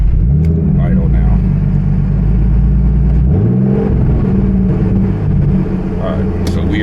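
A turbocharged BMW E36 with a lean-running fault drives with its engine droning steadily up close, rising in pitch twice as it accelerates, while a person talks over it.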